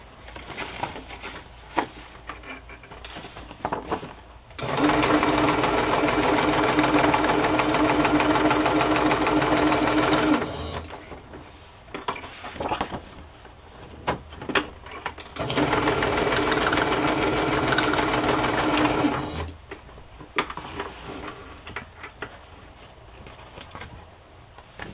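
A sewing machine stitches a stamped muslin journal cover in two long steady runs of rapid mechanical whirring, separated by quieter pauses with small clicks and handling sounds.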